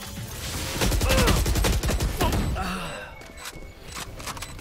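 Rapid gunfire in a shooter video game, a dense rattling volley of loud shots that tapers into scattered pops and game effects, with faint voices underneath.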